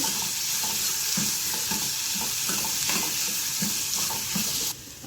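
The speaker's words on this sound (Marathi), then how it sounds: "कांदा थोडासाच आपल्याला परतून घ्यायचा आहे जास्त भाजायचा नाही आहे" Onion, green chillies and curry leaves sautéing in a pan for a wheat flour dosa, giving a steady, close sizzle with soft stirring scrapes throughout and no talk.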